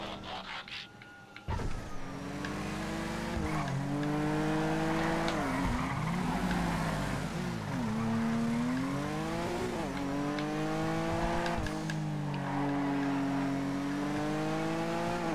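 A GT race car engine in the video game GTA roars steadily at high revs, pitch rising and dipping through gear shifts, loud and continuous with no talking.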